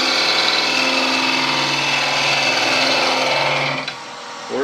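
A gouge cuts a spinning wood spindle on a lathe at a woodturning club demo, giving a steady, loud, close whirring hum with a rough scraping texture that fades as the cut ends near the close.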